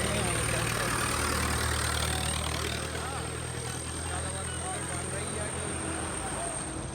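A loud tractor engine runs at a steady idle from start to finish at the Hola Mohalla festival in Anandpur Sahib, a continuous low rumble with a faint high whine above it.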